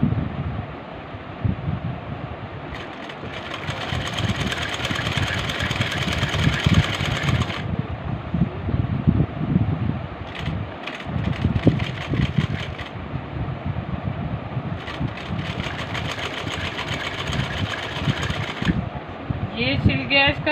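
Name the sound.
sewing machine stitching lace onto a frock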